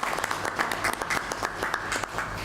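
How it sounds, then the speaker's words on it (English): Attendees at a conference session on indigenous technology in disaster response clap for the panelists, with separate claps audible in a fairly quiet, uneven round of applause from a modest crowd. "May I please invite everyone to give all our panelists a round of applause"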